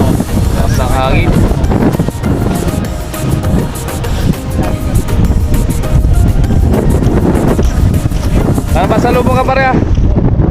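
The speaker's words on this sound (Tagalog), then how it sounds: "Lakas ang hangin" Strong wind roars and buffets steadily across a small boat travelling between an island and Lucena, with water noise underneath and people talking intermittently over it.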